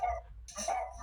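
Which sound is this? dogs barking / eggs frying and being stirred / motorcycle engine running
dogs barking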